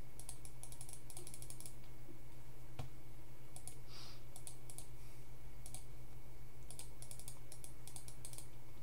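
Faint key presses on a computer keyboard, Ctrl and Alt, fall in short clustered bursts of clicks with pauses between them. A quiet room hum sits underneath, and no one speaks.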